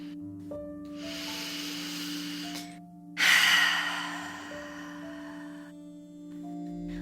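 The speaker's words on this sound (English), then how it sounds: "Two more breaths just like that," Slow, deep breaths in and out during a guided meditation, two long airy exhales standing out, the second louder, over steady low sustained background tones with no talking.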